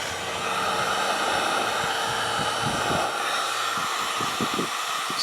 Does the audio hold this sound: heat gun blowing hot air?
yes